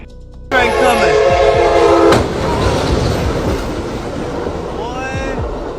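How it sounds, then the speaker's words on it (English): A train approaches a crossing, sounding a loud sustained horn that cuts off abruptly, followed by the heavy rumble and clatter of the passing train, while a voice calls out briefly near the end. "Train coming."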